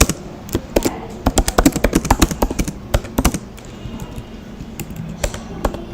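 A computer keyboard clatters as JavaScript code is typed, with quick bursts of crisp, close keystrokes separated by short pauses and no speech.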